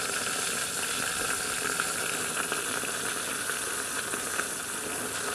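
Whole chicken roasting in a billy can bush pot over a campfire, sizzling and crackling in a steady, dense frying hiss that runs unbroken throughout, with no talk.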